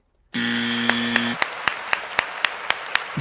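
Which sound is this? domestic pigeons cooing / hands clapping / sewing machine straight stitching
hands clapping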